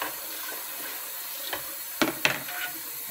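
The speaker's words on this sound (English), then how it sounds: "Continue to stir so that you can get a lot of this rice incorporated in the water so it is nice and clean." Rice swirled and rinsed in a pot of water, a steady watery wash with a few sharper sloshes and splashes near the end, close and without voices.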